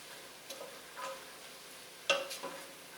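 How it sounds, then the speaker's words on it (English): Mushrooms sauté in a hot pot as a spoon stirs them, giving a faint sizzle broken by a few soft scrapes and knocks, one sharper clack near the end. "let's stir this up"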